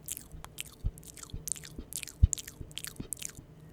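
Soft, close mouth sounds for ASMR, made in an intimate near-silence: a scattered run of wet clicks, smacks and small crunching pops at an irregular rhythm, faint overall with a few sharper snaps.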